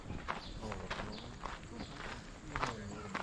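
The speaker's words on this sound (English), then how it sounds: "Hello, beautiful horses." Horses at a historic 1800s village walk nearby, their hooves clip-clopping in an irregular, moderately close rhythm under outdoor ambience, with a voice faintly present.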